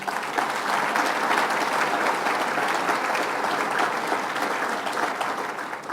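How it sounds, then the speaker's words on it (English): A large crowd at the New York Conference of Mayors applauding loudly and continuously, a dense even wash of clapping from start to finish. "Let's give a big round of applause to Peter Baines."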